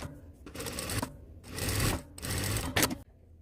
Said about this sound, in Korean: 요 테프론 노루발 한번 장착을 해서 이 노루발로 박음질도 해볼게요